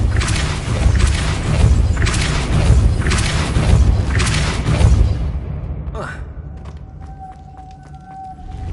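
The Depulso force spell in Hogwarts Legacy: a deep, booming rumble with whooshing pulses, then a sharp swish and a quieter ringing tone as it fades out.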